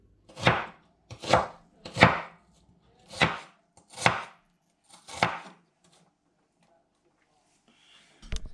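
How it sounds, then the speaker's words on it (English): A knife finely chopping one onion on a cutting board, with six distinct, crisp chops spaced about a second apart, close and clear, followed by quiet and one final knock. "And then I want to finely chop 1 onion."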